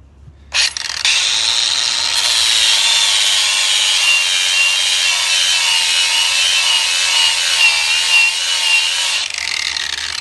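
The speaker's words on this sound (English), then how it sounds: "So now, safety first, I'm going to grind that surface." An angle grinder fitted with a flapper wheel grinds a metal surface in one continuous, loud, close abrasive whine lasting nearly ten seconds, starting and stopping sharply with no talk.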